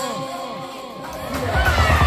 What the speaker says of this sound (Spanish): un fuerte aplauso para el país